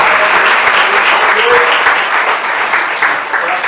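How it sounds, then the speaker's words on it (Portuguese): Loud, sustained clapping from a church congregation praising during a worship service, a dense continuous patter close by with a voice speaking briefly underneath. "Saúdem o Senhor com as suas palmas."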